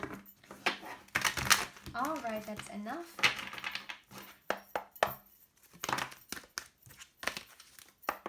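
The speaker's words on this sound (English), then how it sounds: "Let's give it a last shuffle." Papery riffling and shuffling of tarot cards in bursts, close up, with a person speaking briefly between the shuffles.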